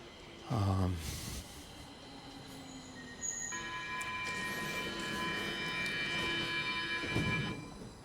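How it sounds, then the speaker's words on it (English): A southbound Stockholm metro train bound for Hagsätra rolls into Abrahamsberg station, building from a brief loud burst to a steady rumbling roar with high squealing tones, then easing off. "a southbound train coming in for Hagsätra"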